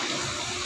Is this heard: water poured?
yes